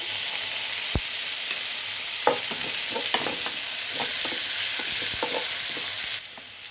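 Dried red chillies, curry leaves, onions and green chillies sizzle steadily in hot oil for a rajma curry, with a few sharp stirring clatters and scrapes against the pan over the continuous frying hiss.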